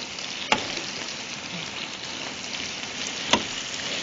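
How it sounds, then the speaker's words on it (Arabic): Pasta is stirred and sautéed in butter and oil, giving a steady even sizzle throughout, broken by two sharp utensil knocks, one early and one near the end. "هجرب حركها شوي صغيرة بس لغلفها بالزبدة والزيت، واتركها شوي لحتى تستوي."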